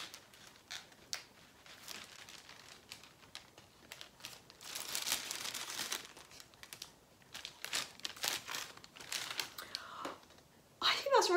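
Tape with little sticker bits being handled close up, producing soft crinkling, peeling and rustling bursts of uneven length, louder in the middle and a sharp crackle at the end.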